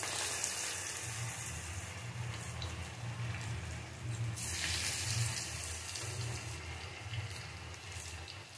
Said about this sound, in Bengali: এক ঘন্টা পর আমি ভাজতে শুরু করলাম